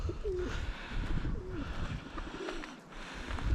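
Soft, repeated pigeon cooing over a steady background hum, the low warbling calls coming every second or so.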